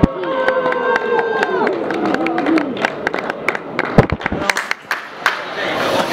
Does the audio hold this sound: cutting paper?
no